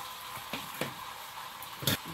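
Potatoes going into hot oil in a home kitchen pan, a soft steady sizzle with a few faint clinks and stirring bumps, no voices.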